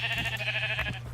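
Sheep in Minecraft bleating in a sustained, wavering cry that runs across the whole short moment, close and fairly loud with a steady low hum beneath.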